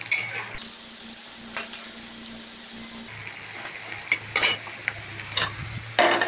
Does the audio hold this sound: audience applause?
no